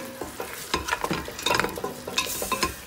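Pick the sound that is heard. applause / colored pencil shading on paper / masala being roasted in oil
masala being roasted in oil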